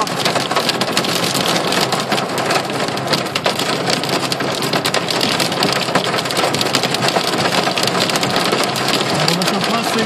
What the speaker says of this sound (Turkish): Oha dolu yağıyor.